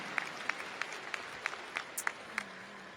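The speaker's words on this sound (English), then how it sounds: "Please join me in offering one more round of applause to Senator Dr. Sarlo for his inspirational speech" Clapping at a university undergraduate commencement, heard as faint, sparse, evenly spaced claps that sound distant and thin rather than a full ovation.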